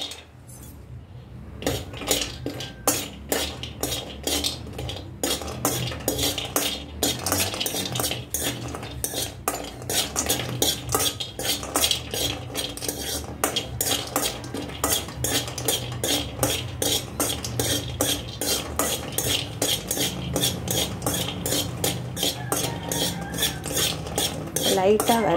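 Cashews and almonds stir-roasted in a pan over a low flame, with rapid, constant scraping and clinking of a metal spoon against the pan, near and loud, the nuts rattling as they are tossed.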